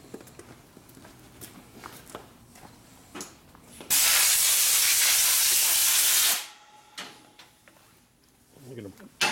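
Steam hisses loudly and steadily for a few seconds from a hot top-end part of a 1958 Harley-Davidson 74ci panhead engine under rebuild and repair, set between quieter workshop clatter and nearby talk.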